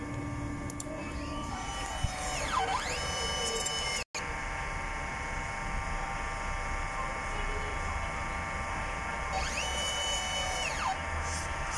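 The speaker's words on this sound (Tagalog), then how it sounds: "Ito naman po ang cupping, good condition po. Head clean." DTF printer head cleaning: a motor whirs and whines, rising and falling in pitch twice over a constant mechanical hum, with a brief click between.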